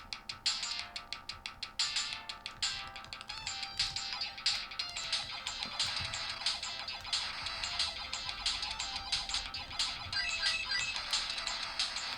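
Airbuster, a Mega Drive game, plays on an RS-97 handheld emulator, giving busy chiptune music with fast, bright, beeping synth notes and rapid sound effects. The sound is continuous and fairly quiet, with no talking.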